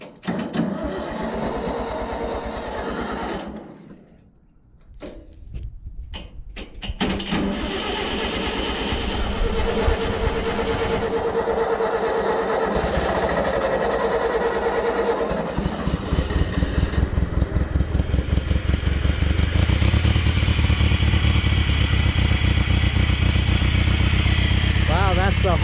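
A Satoh S650G plow tractor engine cranks and sputters, dips briefly, then catches and settles into a steady, loud idle with a rhythmic mechanical chatter that rises slightly toward the end.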